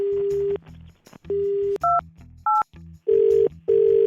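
A phone number is dialed as a string of short, loud tone beeps with uneven gaps between the presses. A low hum sits underneath, with no talking.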